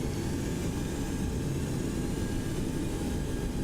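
A Boeing 727 in a flight simulator game spooling its jet engines toward takeoff power, a steady dense roar with a broad rumble, continuous and close, with no talking.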